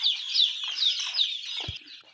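Chickens clucking close by on a small poultry farm, a busy overlapping chorus of hen calls with a short thump near the end.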